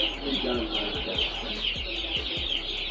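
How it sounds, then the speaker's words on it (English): Backyard chickens clucking and murmuring in a cold coop, a steady layer of soft bird calls with short low knocks repeating every half second or so, fairly close and continuous throughout. "because my chickens are too cold."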